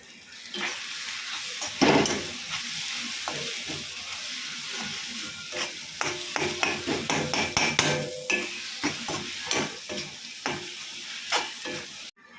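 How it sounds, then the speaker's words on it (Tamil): Torn parotta pieces stirred and fried with egg and masala on a roadside-stall griddle for kothu parotta: repeated scraping and tossing strokes over a continuous sizzle, close and fairly loud, with no talking. "பரோட்டாவை இது மாதிரி பிச்சு போட்டு சேர்த்துட்டு நல்லா ஒரு பெரட்டி பெரட்டி விடணும்"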